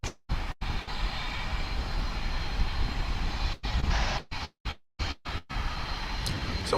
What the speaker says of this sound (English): It's another UPS aircraft. This one's an A310 from Palm Beach.